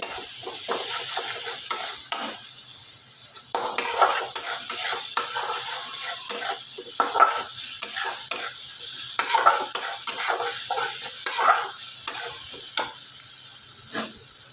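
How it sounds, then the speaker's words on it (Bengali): Spice masala for a restaurant-style Bengali egg curry is stir-fried in a pan, with steady scraping and clinking of a spoon against the metal over a low sizzle, continuous and close, with no talking. "এবার মশলাটাকে ভীষণ ভালোভাবে কষে নেব"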